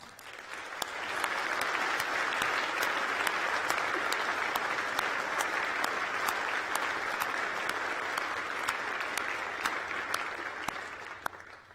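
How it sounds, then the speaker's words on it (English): A large audience claps steadily at a University of York graduation ceremony, a sustained and fairly even round of applause lasting about twelve seconds with no talk over it. "I think another round of applause."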